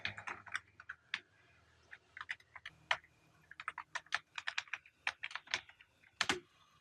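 Close, quiet clicking on a computer keyboard as Python code is entered, irregular clusters of keystrokes with short pauses between, no voices.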